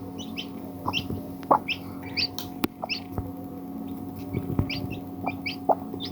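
A hen clucks in short repeated bursts, fairly faint, with a few small chirps and scattered knocks in a quiet rural background.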